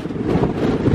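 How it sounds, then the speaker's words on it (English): Strong gale buffeting a mountain top on Waun Fach in the Black Mountains, a loud, close, low roaring rumble of wind battering the microphone without pause. "the wind up here is absolutely horrendous. It's blowing a bloody gale up here."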